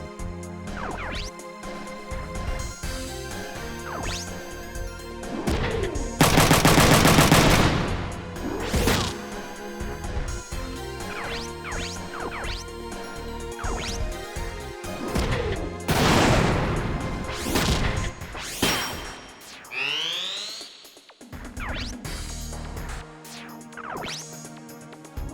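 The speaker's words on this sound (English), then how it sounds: "God, that shotgun does damage." Heavy shotgun blasts from the video game Front Mission 3, loud booming hits with crashing impacts repeating across the stretch amid game effects and music.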